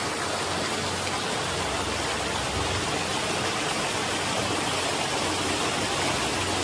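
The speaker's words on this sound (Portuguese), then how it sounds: "Água pura. Água limpa do morro." Clean spring water running down from a hillside on a rural farm property, a dense, constant hiss of flowing water close by, loud and unbroken with no voices.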